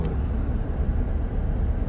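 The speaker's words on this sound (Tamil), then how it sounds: "இங்கே ரொம்ப டிராஃபிக்காக இருக்குது" Heavy road traffic in Tamil Nadu rumbles in a steady low drone of engines and passing vehicles, close and continuous without distinct horns or voices.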